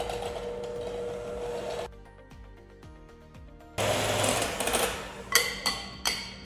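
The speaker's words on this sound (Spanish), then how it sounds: "vamos a iniciar vertiendo aquí nuestra crema, que la tengo súper fría, y vamos a batir a máxima velocidad hasta que esponje" An electric mixer whips very cold cream at top speed for a raspberry pie, whirring loud and close, briefly dropping out before revving back up with a few bumps against the bowl.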